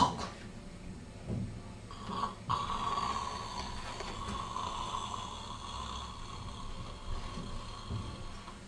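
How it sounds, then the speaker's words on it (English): A sleeping person snores in a steady, low rasping drone that runs the whole time with slight swells, close and fairly quiet, with no talking. "that's my snoring"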